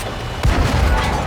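A single heavy tank cannon blast from a Type 62 light tank in World of Tanks console, a sudden loud boom that starts partway in and rolls into a dense rumbling tail.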